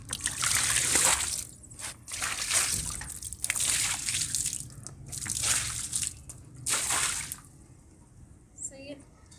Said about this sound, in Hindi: मैं ना आपको पानी ना फेंकते हुए दिखाती हूँ